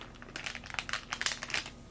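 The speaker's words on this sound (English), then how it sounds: "I still have the plastic bag on these, and I'm going to go ahead and remove it" A plastic bag is peeled off a stack of magazines, giving soft, close crinkling in quick irregular bursts. The sound is gentle and quiet, heard alone.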